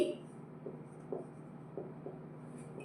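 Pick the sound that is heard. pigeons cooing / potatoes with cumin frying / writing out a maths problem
writing out a maths problem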